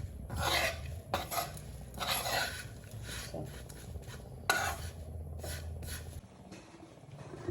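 Granola ingredients being stirred in a pot on the stovetop: oats, honey, cinnamon, salt and chia seeds, with a spoon scraping and clinking against the pan in uneven strokes, close and moderately loud.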